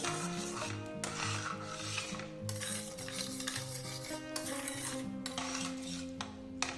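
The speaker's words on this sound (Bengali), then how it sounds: "আবার এটা একটু কষে নিতে হবে যতক্ষণ না তেল ছাড়ছে" A yogurt spice masala for a paneer dish is stirred and sautéed in a pan over low gas until the oil separates. A spoon scrapes steadily and up close while oil sizzles continuously underneath.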